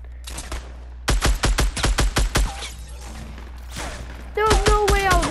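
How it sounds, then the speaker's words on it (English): Gunfire from several Fortnite players, heard as rapid bursts of loud close shots in quick rhythmic volleys over a low hum, followed by scattered quieter noises and a voice shouting at the end. "Freaking all shoot at me at once"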